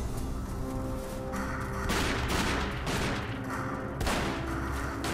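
Barry's gun firing in the Resident Evil video game, heavy blasts in a dense barrage, with two especially loud booming shots standing out, close and forceful over a constant rumbling background.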